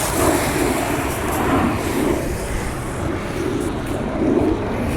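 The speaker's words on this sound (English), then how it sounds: "Another plane." A steady, broad roar of an airplane passing, loud and continuous throughout with slight swells, no voices.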